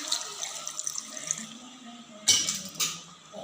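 Water pours into a blender or container for an apple health drink, a soft steady stream with a couple of louder splashes near the end, close and fairly quiet, with no one talking.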